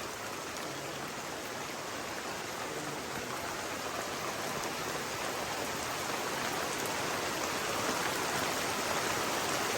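Heavy rainstorm falling in a mountain valley, a dense continuous hiss of rain on surfaces, steady and unbroken with no voices.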